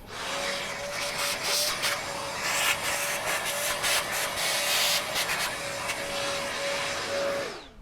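A Parkside PABH 20Li B2 rotary hammer drills into reinforced concrete and strikes the iron rebar inside, giving a close, loud grinding rattle over a steady motor whine that winds down at the end.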